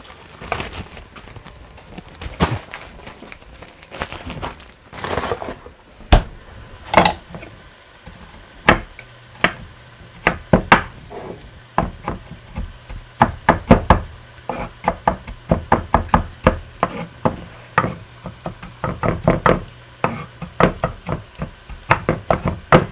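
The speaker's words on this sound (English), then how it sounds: "I'm going to chop it a little bit finer so nobody gets a really huge hunk of" A knife chops frozen ginger into finer pieces on a cutting board, giving a long run of sharp, close knocks that start sparse and then quicken into a dense, steady rhythm with no talk.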